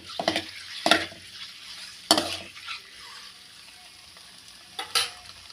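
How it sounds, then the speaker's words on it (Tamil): A spoon stirs and scrapes through egg masala with chili powder in a pan over a low flame, making a few distinct clinks and scrapes over a faint background hiss, with no voices. "ஒரு 2 நிமிஷம் இதிலேயே கலக்கி விடுங்க"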